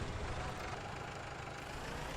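Tractor engine idling in a farming video game, a steady low rumbling drone with an even, unchanging level and no voices over it.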